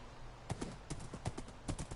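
Horse hooves clip-clop in the video game Minecraft Bedrock, a series of crisp, fairly close hoofbeats in an uneven walking rhythm, with no other sounds over them.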